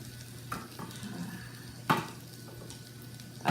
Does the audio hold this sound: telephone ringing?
no